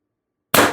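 A single sharp burst from a Pistelle X-68 air rifle with an HD24 Short regulator at 1,000 PSI and a small MCS expansion chamber, loud and close, cutting in abruptly after silence and fading quickly.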